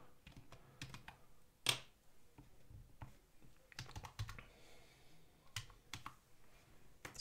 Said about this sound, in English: So we just type the number into the box.